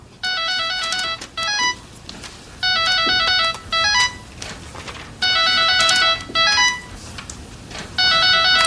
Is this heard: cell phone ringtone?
yes